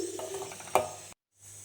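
Tomato gravy with turmeric, coriander and chili powders cooking in a pan, a soft sizzle with a light stir and a brief scrape of a spoon before it cuts to near silence.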